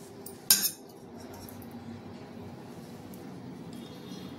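Cabbage Manchurian is served onto a plate, a single sharp clink of metal utensil against the dish followed by soft scraping and quiet kitchen background.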